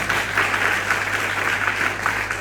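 A church congregation applauds in a sustained, even burst of clapping from many people, fairly close and continuous for a couple of seconds with no voices over it.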